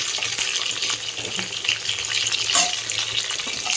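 Dried red chili, crushed garlic, curry leaves and turmeric sputter in hot oil for a tempering, a dense continuous sizzle with small crackles and an occasional stir, close and fairly loud, no voices.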